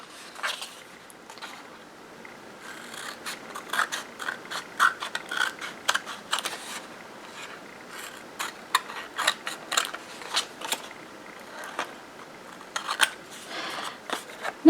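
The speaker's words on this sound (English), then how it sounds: "I'm just going to trim the excess off" Scissors trim excess paper off a craft tag, making close, crisp snipping clicks in irregular bursts with short pauses between cuts and no voice.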